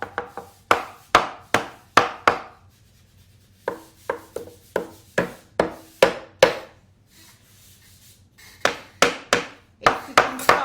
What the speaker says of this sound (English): Then we use a little bit the hammer